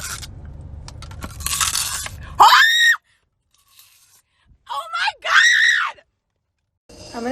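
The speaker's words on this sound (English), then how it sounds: "this makes an apple crunching sound when you bite it" Plastic apple juice bottle being bitten, giving sharp crunching scrapes much like biting an apple, in two loud bursts separated by near silence, with rustling before them and a person vocalizing inside a car.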